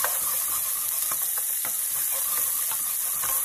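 Salmon frying skin-side down in a pan on a gas stove, a steady bright sizzle with repeated soft scrapes and taps of stirring, close and without talk.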